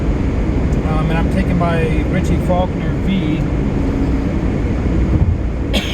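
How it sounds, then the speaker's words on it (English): An electric fan blasts in a backyard on a scorching hot summer day, filling the space with a constant, loud, airy roar. Someone talks throughout over the steady whoosh. "Sorry about the fan that's blasting here"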